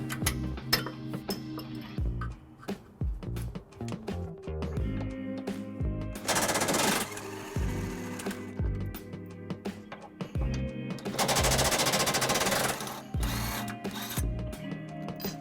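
Tow hook bolts on a 2017 Lexus RX350 being loosened with a 17mm socket and ratchet, giving two long bursts of rapid metallic clicking between quieter clanks and handling noise, close and loud.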